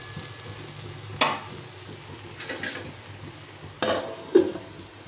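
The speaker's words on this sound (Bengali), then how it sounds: "শাকটাকে ভালো করে সুন্দরভাবে কষিয়ে নিতে হবে।" Taro leaf greens with a hilsa fish head being sautéed in a pan, a low sizzle broken by three or four sharp spatula scrapes and knocks against the pan, close and fairly quiet.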